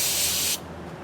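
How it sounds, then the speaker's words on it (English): Brake cleaner aerosol hisses in a steady outdoor spray onto the front bumper of a fire-damaged 1955 Buick, cutting off after about half a second and leaving faint background noise. "I'm using brake clean"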